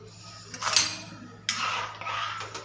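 Gram-flour batter for khandvi stirred continuously in a pan, giving a few short bursts of metal scraping and clinking against the pan with gaps between, close and fairly faint, no talk.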